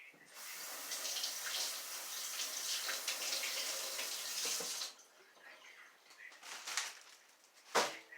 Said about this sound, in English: I'm going to rinse my potatoes.